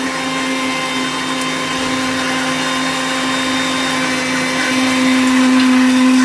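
A kitchen blender grinds watermelon with a loud, steady, high-pitched motor whine that holds constant throughout and rises slightly in pitch near the end, with no talking.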